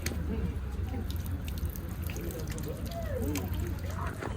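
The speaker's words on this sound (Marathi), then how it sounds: "गाईस चला आता इकडं पाय वगैरे धुवू आपण." Warm water runs and trickles at an outdoor tap or basin near a temple as feet are washed, a steady low splashing over a rumbling background.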